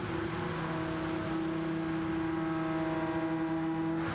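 The Tomahawk race car's engine in Gran Turismo 7 holds a steady, smooth high-pitched hum, with no talk over it.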